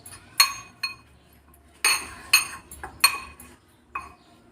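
A spoon mixes chopped garlic into potato batter in a bowl, producing about eight sharp metallic clinks and scrapes in an uneven rhythm, close and alone with no talking.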